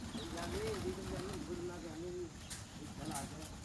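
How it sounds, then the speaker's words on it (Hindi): Pigeons gather at grain and water on a rooftop in the early morning, one cooing in a low, wavering call while soft flutters and a voice carry over the scene. "देखिए दाने पानी पर कबूतर"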